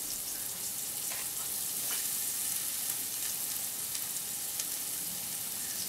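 Garlic and ginger fry in a hot pan, making a continuous soft hiss with faint crackles, steady and fairly quiet throughout, with no voices.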